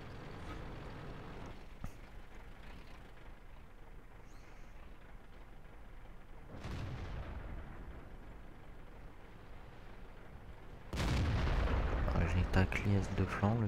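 Artillery fire in the World of Tanks video game, with heavy booming blasts at intervals over rumbling battle noise, the loudest impact crashing in near the end.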